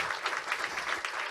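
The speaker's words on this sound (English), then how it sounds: "Round of applause" An audience at a hotel conference's opening remarks claps in a brief, dense burst of applause that holds steady throughout.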